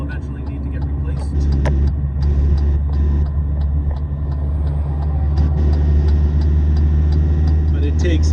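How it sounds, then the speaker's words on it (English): Truck engine labouring to gain speed uphill on a road trip, with a transmission that slips on shifts; a steady, heavy low drone with road rumble holds throughout, loud and continuous. "it takes everything this truck has to get up to speed, going uphill"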